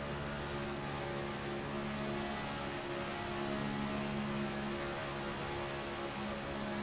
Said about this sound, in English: Let's take a listen on board here with that 7 of Tyler Davala as he runs right behind Bran